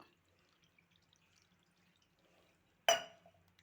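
Half a litre of water is poured into a pot for Karnataka-style rasam, one short, close splash bursting out of near silence before quickly fading.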